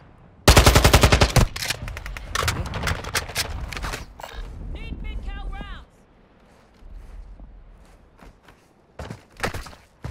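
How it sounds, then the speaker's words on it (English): Assault rifle gunfire in the video game Warzone: a loud rapid burst of automatic shots up close, then scattered single shots and thuds, with people talking over the game audio. "This is an assault rifle that I'm watching."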